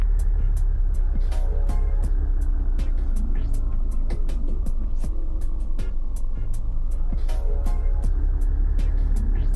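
A car engine drones steadily in the horror game Mimic Search, with a string of sharp clicks and knocks over the continuous rumble and no talking.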